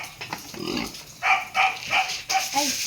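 Pigs on a farm grunting and squealing in short bursts at close range, with faint shuffling and a dog-like yelp among them.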